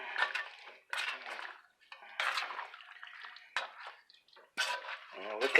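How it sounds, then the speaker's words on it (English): A spoon stirs garlic and onions in a cooking pot, producing bursts of close scraping and clinking against the metal in uneven strokes, with short pauses between them. "I'm going to take this and stir it up."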